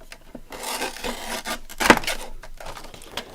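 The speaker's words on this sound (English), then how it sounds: "I'm going to cut it there." A single short burst of rough, rasping wood cutting, likely a handsaw stroke through a board, close and fairly loud, with scraping and rubbing noises around it and no talking.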